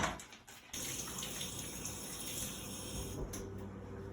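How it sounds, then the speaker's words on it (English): Tap water runs steadily from a faucet as hands are washed after handling raw meat in a home kitchen, a brief clunk at the start before the flow settles into a continuous close splash. "got my hands all washed up again"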